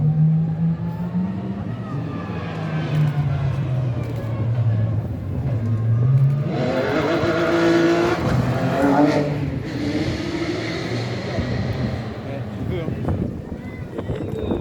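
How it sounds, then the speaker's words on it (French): Ferrari 51 race car driving past in the Le Mans 24 Hours parade through the town centre, its engine revving up and swelling as it passes close by amid crowd noise and a talking voice. "Dernier passage de la Ferrari 51."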